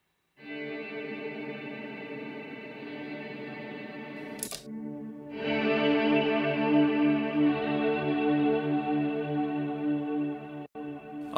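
Electric guitar chords played through the Dynamic Hall reverb on an HX Stomp, a sustained ringing strum with a lush hall tail, a brief pause and a louder second strum that swells and rings on alone.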